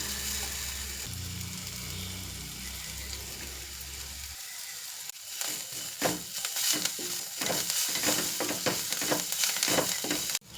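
Taro leaves and stems stir-frying in a pan for a home-style thoran, a steady sizzle with a burst of stirring and scraping strokes in the second half, close and fairly loud.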